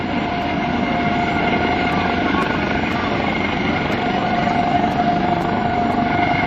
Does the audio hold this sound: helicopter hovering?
yes